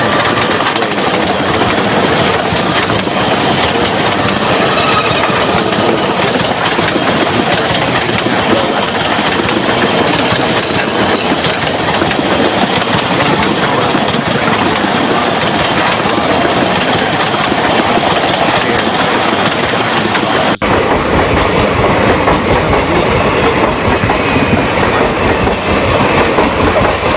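A passenger train rolls steadily along the rails on a scenic journey, a continuous loud rumble with a rhythmic clickety-clack of wheels over track joints, the tone shifting slightly near the end.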